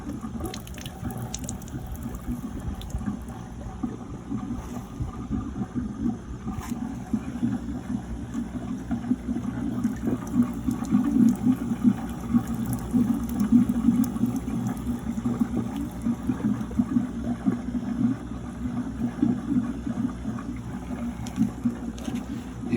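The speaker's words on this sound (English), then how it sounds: "See it draining." Water drains steadily through the grow channels of a riverponics system, a continuous close rushing and trickling flow that holds at a fairly constant level throughout, with occasional faint clicks and splashes.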